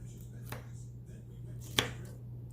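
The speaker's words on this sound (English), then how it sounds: "So let's cut the little brown parts off that we missed." A knife trimming brown spots off produce, two soft isolated taps on a cutting board, the second slightly sharper, over a low steady hum.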